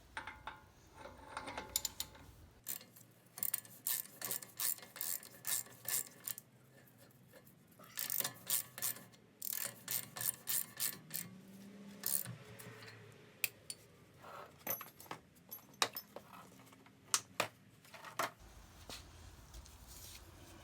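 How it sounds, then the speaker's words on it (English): Ratcheting clicks from a hand wrench or torque wrench tightening the front axle nut on a 2006–2011 Honda Civic Si, in quick repeated bursts with short pauses, close and fairly loud, no talking. "Now we are going to tighten the axle nut, torque it, then we're gonna stake it."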